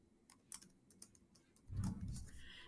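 Quiet, quick keystrokes tap on a computer keyboard as an equation is typed into Desmos, a short burst of clicks followed by a softer rustle.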